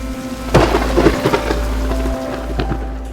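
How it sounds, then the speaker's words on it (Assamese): A rain shower with thunder: rain patters steadily while several sharp thunder cracks and rumbles break through close by, over a soft sustained tonal drone. "এয়া চোৱা আহিছে এজাক বৰষুণ"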